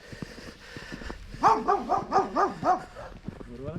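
A dog barks in a quick run of about five close, loud barks on a snowy outing in Székesfehérvár, Hungary, with faint voices and quieter sounds before and after.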